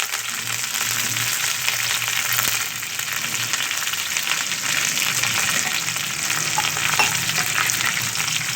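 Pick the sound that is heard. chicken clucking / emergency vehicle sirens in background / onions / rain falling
onions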